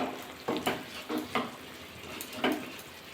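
Boiling grape pickle stirred in a pan, with a few distinct scraping, clattering strokes of the spoon against the pan over a soft, continuous bubbling sizzle.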